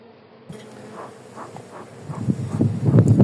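Honeybees buzz around an open hive during an inspection, a steady close drone that thickens and grows louder toward the end.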